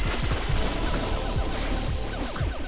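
Rapid bursts of wave-gun fire in the video game Fission Superstar X, dense and continuous with repeated low thumps under a busy, loud barrage.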